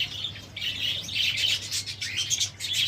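A pet cockatiel chirps in quick, bright bursts close by, a near-continuous run of tweets with brief pauses and no talking.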